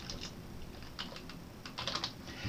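Quick, light keystrokes on a computer keyboard, tapped in short uneven bursts close to the mic, fairly quiet, with no voice over them.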